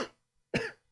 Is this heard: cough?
yes